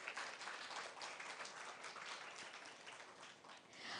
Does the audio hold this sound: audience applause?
yes